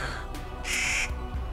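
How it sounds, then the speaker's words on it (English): A squawking, crow-like bird calls out loudly on a high mountain wilderness trail near San Gorgonio, with harsh bursts over a windy outdoor background. "some bird has gone crazy"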